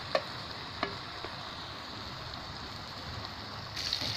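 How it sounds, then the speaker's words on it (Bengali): A wrapped poa fish paturi cooks on its bottom side in a pan, giving a soft, steady sizzle throughout with a couple of faint clicks near the start and a slightly brighter hiss at the end. "এখন নিচের সাইডটাকেও আমি কিছুক্ষণ রান্না করে নিচ্ছি"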